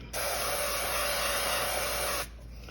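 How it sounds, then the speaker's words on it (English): One continuous hiss from an aerosol can of cooking spray onto fries for an air fryer, a couple of seconds long, close and steady, then cut off abruptly. "spray the tops of the fries with cooking spray"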